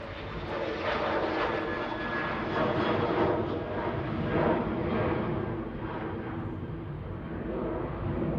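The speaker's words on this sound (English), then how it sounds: "So we're heading off to Ibiza, GTUKS, flight 2666" An easyJet airliner, registration G-TUKS, departs Manchester Airport on flight 2666 for Ibiza, its engines giving a steady, fairly loud roar that swells and eases slightly throughout.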